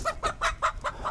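Chickens clucking close by as breeder birds are loaded into pens after dark, a run of five or six rhythmic clucks in quick succession with no voices.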